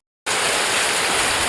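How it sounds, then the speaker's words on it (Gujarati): Heavy rain pours down at night near a river, a dense, loud, steady hiss that starts abruptly and lasts just over a second with no voices. "વરસાદ છે ને અંદરાધાર પડે છે"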